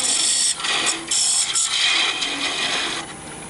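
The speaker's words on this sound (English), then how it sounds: "Now it's been sanded to 400 and I'm parting this piece off." Parting tool cutting off a sanded woodturning piece spinning on a lathe: a loud, close, continuous scraping hiss with brief dips as the tool cuts in.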